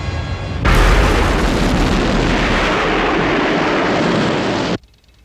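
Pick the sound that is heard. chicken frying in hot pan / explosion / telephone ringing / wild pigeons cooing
explosion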